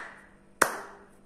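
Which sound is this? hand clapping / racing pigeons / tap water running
hand clapping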